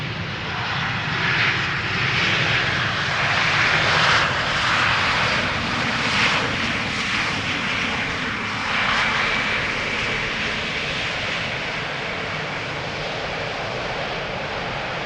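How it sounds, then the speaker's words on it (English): An EasyJet Airbus A320neo arriving from Milan produces a sustained, fairly loud jet engine roar that swells slightly and then holds steady for about fifteen seconds, with no talking. "EasyJet A320neo arriving from Milan."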